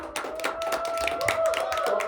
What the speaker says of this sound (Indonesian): Untuk Ronald, kita beri tepuk tangan dulu Ronald.